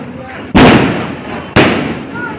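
Two sharp, loud explosive bangs about a second apart from rocket firecrackers during Diwali, each bursting suddenly and crackling off, close by.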